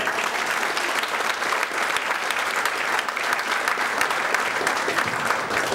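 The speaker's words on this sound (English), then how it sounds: "let's give a big hand to Rajesh" An audience at a seminar gives a big round of applause for a man named Rajesh, a loud, steady, continuous wash of many hands clapping that lasts throughout.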